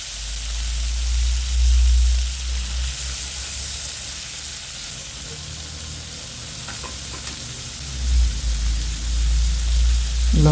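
Potatoes frying in oil for a small fish curry with raw mango and tomato give a steady, loud, close sizzle with a low rumbling undertone that swells at the start and near the end.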